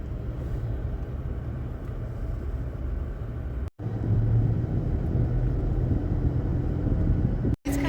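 A car rolls through the small Tennessee town of Little White Pine, a steady low road rumble with wind buffeting, broken by two abrupt instant dropouts.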